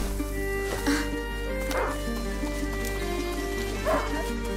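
Leo, a hunting dog in A Plague Tale: Innocence, barks three separate times at a distance over a steady low background hum, with short gaps between the barks.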